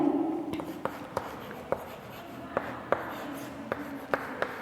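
Pen writing by hand on paper during a maths lesson on square roots, a close continuous scratchy scrawl punctuated by sharp taps as strokes start and end, no talking.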